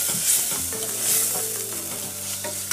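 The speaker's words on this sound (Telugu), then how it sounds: "ఇంకా 1 అర స్పూను జీలకర్ర పొడి, 1 స్పూను ధనియాల పొడి, ఇలా వేసుకొని ఒక 1/2 నిమిషం ఫ్రై చేసుకోండి" Cumin and coriander powder fry in a pan with a steady, close sizzle. A spoon scrapes and stirs through it in a few soft strokes, and no one speaks.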